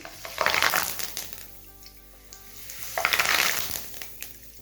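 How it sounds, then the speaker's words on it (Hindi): Two curry leaves dropped into hot oil for a dal dish burst into loud, crackling sizzles, first for about a second, then again after a quieter pause, close and bright. "अब 2 पत्ते करी पत्ते के, इसे भी फ्राई कर लेते हैं"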